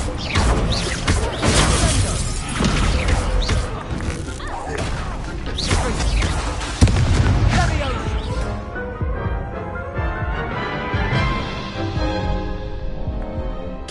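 Incendio, a fire spell in a wizarding video game, is cast with a loud, dense whoosh and crashing burst that lasts several seconds before dying into a ringing, crackling tail.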